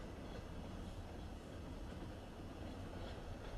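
A train rolls past on a railway at North Adams during a deep freeze, a steady, broad rumble and rush of railcars that fills the whole stretch without letup, fairly distant and even in level.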